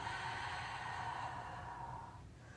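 A single long, soft exhale during a beginner exercise class with a straw ball, a close breathy rush fading out after about two seconds, with no talking.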